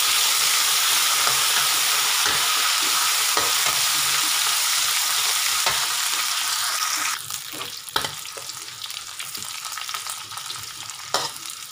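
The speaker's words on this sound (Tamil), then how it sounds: "நல்லா வதங்கிருச்சு வெங்காயம்," Onions with curry leaves sautéing in a pan for a snakehead fish head curry, a dense steady sizzle and hiss with repeated scraping stirs, loud at first and then easing into a quieter crackle with sharp spoon knocks.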